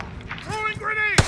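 Gunfire from the video game Call of Duty: Warzone sounds while a player's voice speaks over the game audio. A single sharp, loud shot or short burst hits near the end.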